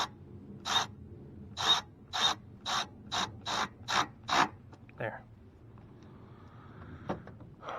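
A ratchet tightens a bolt on the thermostat housing of a 2006 Ford Explorer 4.0 SOHC, giving about nine crisp, close clicking strokes in steady rhythm, followed by a few quieter handling noises.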